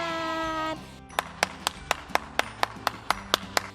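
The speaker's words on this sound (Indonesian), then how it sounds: "Ya, tepuk tangan" Children clapping their hands in a steady rhythm, about ten sharp, evenly spaced claps following a brief sung or spoken tone, close and fairly loud at an online Sunday kids' worship session.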